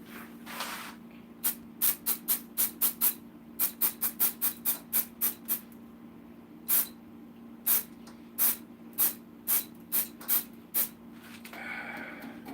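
An aerosol can sprays finish onto a woodturned ornament in a long series of short, sharp hissing bursts, some quick and clustered, others spaced apart, heard up close over a low steady hum.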